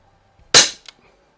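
A single sharp crack from an Umarex Notos air rifle firing at a paper target, close and loud, followed by a faint, brief thud.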